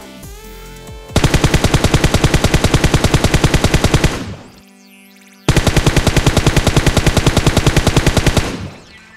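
Two long bursts of rapid automatic gunfire in PUBG Mobile, loud and close, fired in a test with and without a laser sight, separated by a short lull with faint background tones.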